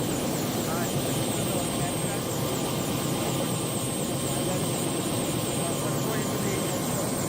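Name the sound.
helicopter flight over Victoria Falls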